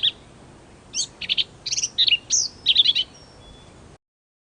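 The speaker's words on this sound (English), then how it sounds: "If I play the song, it's also hard to make out any details of the song's structure because the bird sings very" A fast songbird song is played back from a recording. It has a quick run of high, bright chirps and trills in close succession, clear against a faint hiss, then cuts off.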